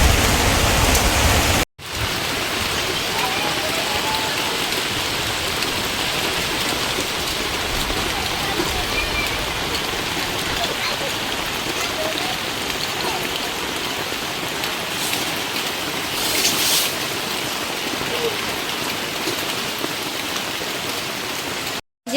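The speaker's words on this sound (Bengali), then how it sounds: "খুব বৃষ্টি হচ্ছে।" Heavy monsoon rain pours steadily outside a village home kitchen, a dense continuous hiss of drops on surfaces that holds loud and unbroken for the whole stretch, after a brief cut near the start.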